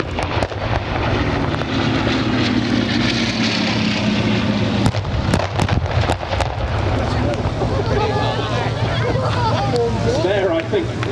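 A Bristol Blenheim bomber makes a low display run at the Biggin Hill Festival of Flight, with a broad, loud engine drone. A commentator talks over it, and sharp cracks of pyrotechnic bangs break through.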